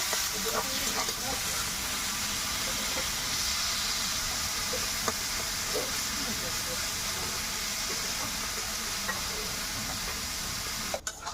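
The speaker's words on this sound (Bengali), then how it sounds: "ভাজা ভাজা করে নেব।" Red amaranth greens, seasoned with a little salt and sugar, frying in a pan with a continuous hissing sizzle and occasional soft stirring clicks, close and steady throughout, with no talking.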